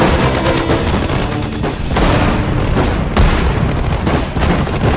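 Dense infantry rifle and machine-gun fire crackles continuously from a Sudden Strike 4 battle in the Normandy invasion, overlapping volleys and bursts loud and close with booming impacts mixed in, no talk over it.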